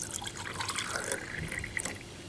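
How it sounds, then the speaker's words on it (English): Water pours into a small glass jar until it is nearly full, making a steady, close trickle with light splashy dribbles and no voices. "get it nearly to the top with water"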